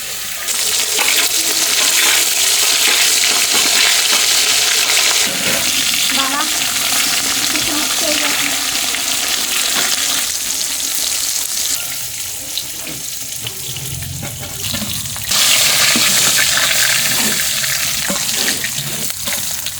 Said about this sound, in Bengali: দেখুন মাছগুলো লাল লাল করে কি সুন্দর ভাজা হয়েছে